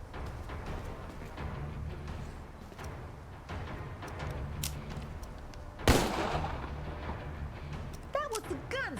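Gunfire in the video game Empire of Sin on Nintendo Switch: scattered sharp shots with one loud crack standing out, over game sounds and a speaking voice.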